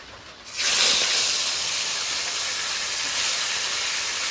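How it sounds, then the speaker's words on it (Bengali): Rain falls steadily as a broad, even hiss that swells in quickly after a quieter first half second, then holds at a constant level throughout. "দেখো এত সুন্দর বৃষ্টি হচ্ছে"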